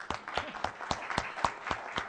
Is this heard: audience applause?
yes